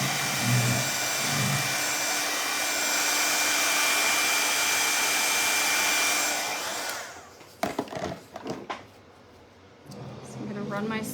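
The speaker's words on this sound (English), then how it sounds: "Let me actually just run the dryer on here real quick." A hair dryer aimed at paint blows with a loud, steady broadband whoosh for about seven seconds, then cuts off, leaving a few brief handling knocks and rustles nearby.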